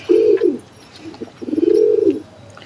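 Pigeon cooing in a breeding cage, two close, loud low coos, the first short and the second longer and rolling, with a brief pause between.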